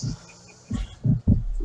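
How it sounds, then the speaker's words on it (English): Heartbeat effect from the video game Call of Duty MW3, a few low thumping beats in a loose rhythm, close and fairly loud, with a faint hum underneath. "The sound of heartbeats."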